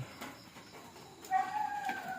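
A chicken calls a few times at moderate distance, short clucking notes over a soft outdoor background with no talking.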